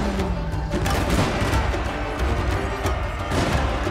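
Massed matchlock arquebus volleys crackle in a Total War: Shogun 2 battle between Joseon gunners and US Marines, a dense continuous roar of overlapping shots with low rumbling booms throughout.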